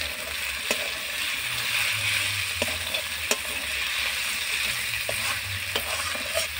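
Tomatoes with a pinch of salt sizzling in a pan, a steady frying hiss broken by repeated sharp scrapes and taps of a spoon as they are stirred, close and clear with no voices.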